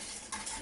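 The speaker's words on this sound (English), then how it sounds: "So I'm going to stir that now until it thickens." A utensil stirring cheese sauce in a pan as it thickens, a quiet, brief scraping swirl with a soft bubbling texture and no talking.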